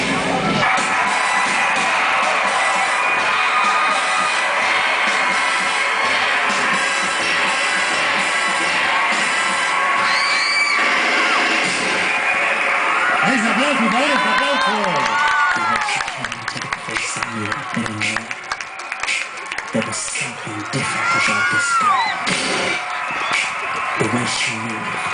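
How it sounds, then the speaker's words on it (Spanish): Audience at a youth music event in Santiago de Cao, Cartavio, Peru, applauding and cheering for young student performers; a broad, sustained crowd roar of clapping fills the whole stretch, with an announcer's voice rising over it in the second half. "Fuertísimo este aplauso para estos jóvenes."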